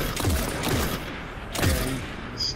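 Rifle fire from a scout rifle in the Destiny video game: a sharp single shot followed by another loud burst about a second later, each crack booming with a low thump and fading echo, close and prominent.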